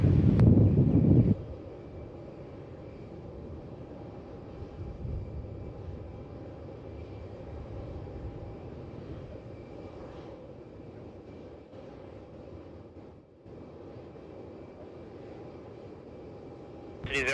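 Boeing jet climbing out of Melbourne Airport bound for Canberra, a steady distant engine roar holding at an even level, with a loud wind gust on the microphone at the start.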